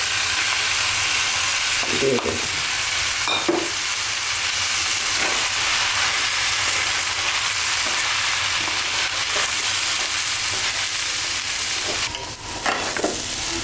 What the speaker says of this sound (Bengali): চাউলটা আমাদের ভাজা হয়ে গেছে